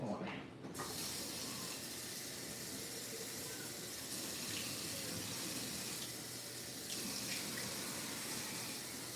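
A kitchen tap runs warm water in a steady, full rushing stream, close and continuous for the whole stretch, with a brief clatter near the start.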